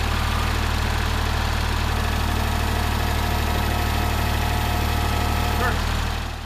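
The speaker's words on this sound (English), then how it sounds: "Can the front end loader lift it?" A tractor's diesel engine runs steadily and loudly near the mic while its front end loader lifts a heavy pallet of roughly 1,000 lb, with a constant low rumble and vibration throughout.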